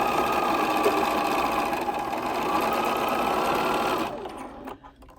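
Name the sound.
sewing machine stitching quilt block seam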